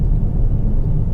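Steady low rumble of tires rolling on the road inside a Honda HR-V V Turbo during normal driving, a continuous dense drone with no voice present.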